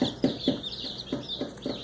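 Isa Brown pullet chicks cheep in a brooder, a run of short, bright, repeated peeps at close range with soft clucking underneath and no talk.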